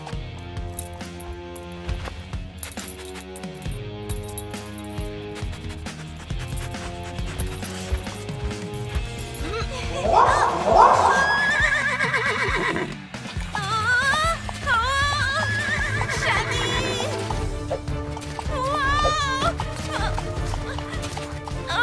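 A horse in a Polly Pocket cartoon clip-clops along with steady hoofbeats and gives a short whinny midway, all over constant background music.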